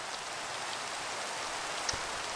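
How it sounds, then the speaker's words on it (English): Rain falling in the video game Minecraft, a steady, even hiss of drops that carries on without a break, with no voices over it. "You can tell it is a Minecraft server in the USA because it perpetually rains."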